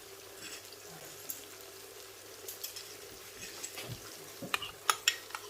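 Soya chunks roasting in a pan, a faint low sizzle underneath with occasional stirring scrapes and a few sharper metal clinks of a spoon against the pan toward the end.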